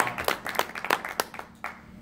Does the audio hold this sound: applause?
yes